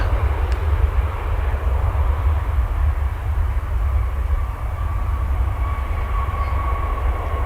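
Airplane taking off at DFW Airport, a steady, loud low-frequency engine roar that holds throughout, with a faint rising whine toward the end.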